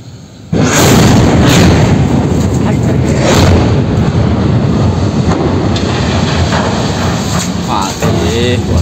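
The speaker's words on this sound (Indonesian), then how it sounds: "polisi masih menyelidiki apa penyebab ledakan di perusahaan" An explosion at a company site sets off a sudden loud, sustained roar that keeps rumbling for several seconds, with people's voices faintly heard beneath it.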